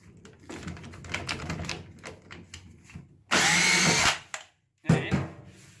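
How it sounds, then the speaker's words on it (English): A power drill runs while reseating a household tap, a harsh continuous whir close by for about a second, then a brief second burst, with clattering and handling noise of tools and fittings beforehand. "give it a good drill like that"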